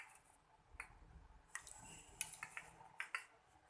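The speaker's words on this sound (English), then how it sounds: "And then stir it." A spoon stirs a lemon juice and turmeric indicator mixture in a glass, giving a few soft, scattered clinks and taps at close range, faint and without speech.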